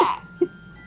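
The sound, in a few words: hiccup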